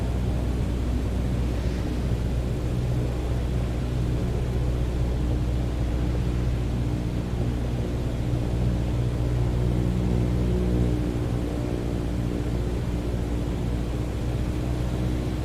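Cessna 152 engine in a flight simulator during a touch and go at Martha's Vineyard, heard as a steady, loud propeller drone with a broad airy hiss that holds nearly unchanged throughout.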